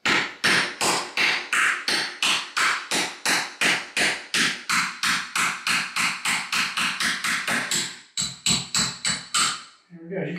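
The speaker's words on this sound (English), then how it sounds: "just take the chisel, put it around the top" A chisel tapped repeatedly with a hammer to drive a hinge pin out of a door, loud, steady regular blows, about three per second, with a brief pause and a few slower taps near the end.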